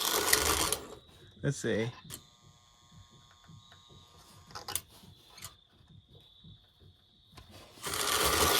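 A restored 1946 Lionel No. 1405W toy train locomotive runs at low speed with a steady, close mechanical whir and ticking gears. A person speaks briefly, and louder bursts of noise come at the start and end.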